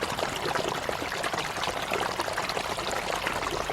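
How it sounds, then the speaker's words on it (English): Rushing water from a flash flood in a ravine gives a dense, steady roar of flowing, splashing water, loud and continuous throughout. "we hear and then see a rush of water from a flash flood"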